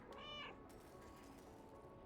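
A cat meows once, clear and close, near the start in the video game Stray, then gives way to a steady low game ambience.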